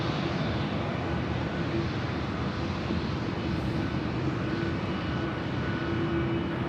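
United 198 heavy, a large jet, takes off from runway 24 left at Los Angeles International Airport with a steady, fairly loud engine roar that holds without a break over a low rumble.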